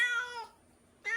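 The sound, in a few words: cat meowing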